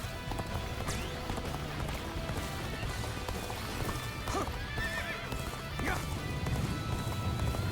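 Horse hooves clip-clop at a run in the video game Dynasty Warriors Origins, with a whinny and clashing battle noise, a steady busy mix throughout.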